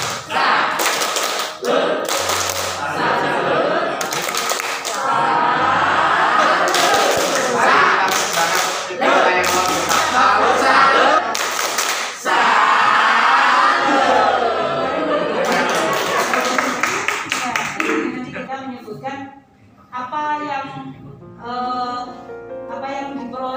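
A group of teachers at a workshop claps out the rhythmic tepuk salut routine, with bursts of sharp synchronized claps and thumps alternating with short pauses, loud and close, and voices joining in near the end.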